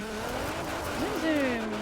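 A Nissan GT-R Black Edition in Forza Horizon 4 drives with its engine note climbing and sweeping in pitch, plus a brief tire squeal, close and fairly loud, with a voice talking over it.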